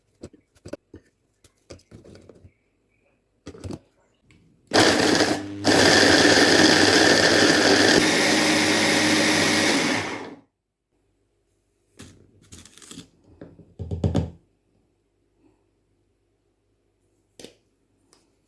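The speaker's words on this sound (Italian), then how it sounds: "li frullo con un mixer" An electric mixer blitzes digestive biscuits into crumbs for a no-bake cheesecake base, a loud steady whirring burst of about five seconds set between quieter kitchen clatter and taps.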